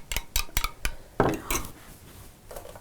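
A utensil clinks and scrapes against a dish while stirring a milk mixture for cooking potato, close, with several quick sharp taps followed by a duller scrape and fainter clinks, no talk.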